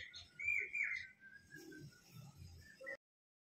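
A small bird calls nearby in a rural home setting, giving a few clear, high chirps and short whistled notes in a quick loose run over faint background noise.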